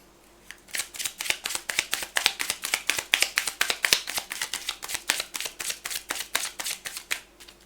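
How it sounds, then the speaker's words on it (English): A deck of playing cards riffled and shuffled in a steady run of rapid, crisp flutters, close and fairly loud, continuing for several seconds with no talk. "It was just sloppy shuffling."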